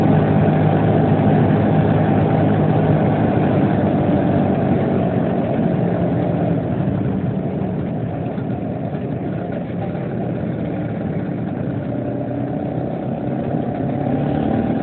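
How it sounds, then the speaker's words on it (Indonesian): A Vespa PX scooter engine runs smoothly at a steady idle, a continuous close low hum that eases slightly partway through, with no talking. "Untuk mesinnya juga halus ini, yang Vespa saya silver ini."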